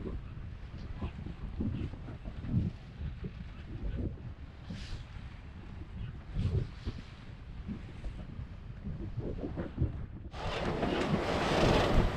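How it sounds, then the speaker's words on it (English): Wind buffets the microphone aboard a sailboat at sea under full genoa and full main, a steady low roar that swells into a loud, hissing gust near the end, with no talk. "We've got the wind just blowing today quite nicely."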